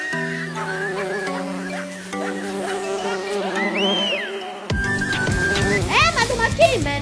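A buzzing bee drones with a wavering, whiny pitch close by, mixed with children's voices talking and exclaiming over it throughout.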